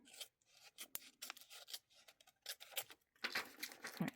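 Paper being cut and trimmed with scissors for a Dutch door journal spread, giving repeated short raspy snips and rubbing strokes, fairly faint and close, with no talking.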